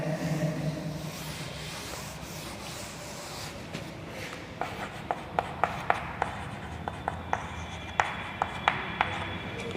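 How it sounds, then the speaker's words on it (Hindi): Writing on a classroom board during a maths lesson on mensuration, heard as a run of sharp, clicky strokes and taps that grow denser in the second half, close and alone with faint room noise. "तो यहाँ पे लिख लेते हैं"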